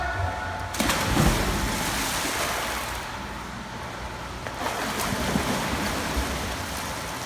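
A swimmer dives off a starting block into a pool, with a sharp splash entry followed by churning, rushing water and a second burst of splashing as the strokes begin.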